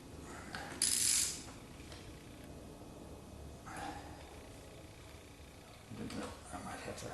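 A ratchet wrench works on a distributor bolt during a swap from a points distributor to an HEI unit, giving a brief burst of close clicking followed by quiet shuffling and faint background noise.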